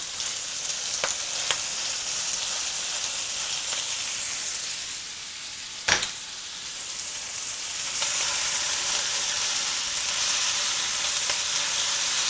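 Malaysian spinach, or bayam, sizzles steadily in a hot pan with a broad, close hiss, a brief sharp clatter midway and a slight surge in the frying later on.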